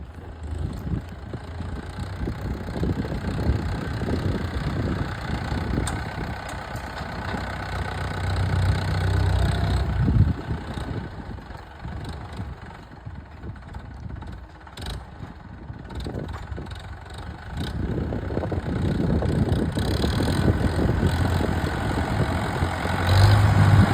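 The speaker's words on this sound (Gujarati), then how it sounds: "મોટું ટ્રેક્ટર" A large tractor engine idles steadily outdoors, a loud, continuous low rumble that swells and eases slightly over about twenty-four seconds with no voices.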